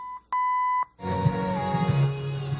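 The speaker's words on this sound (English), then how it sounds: "there's our beeps." Two or three short electronic beeps from a car stereo in a 1970 Challenger sound close by, followed by music playing through the car speakers.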